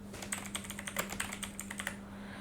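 Text being typed on a computer keyboard: a quick run of light, close key clicks in an uneven rhythm that tapers off near the end, over a faint steady hum, with no voices.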